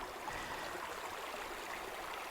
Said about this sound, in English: As you can see, this is Indian Creek.